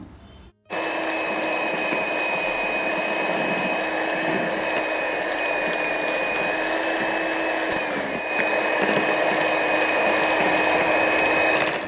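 An electric beater whirs steadily through Christmas fruit cake batter, a loud continuous motor drone with a high whine that starts abruptly and holds for several seconds, alone without voices.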